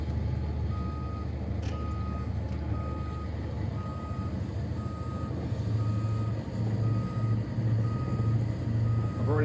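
A truck's reversing alarm beeps in a regular repeating pattern at moderate distance, over a steady low engine rumble on an outdoor driving course.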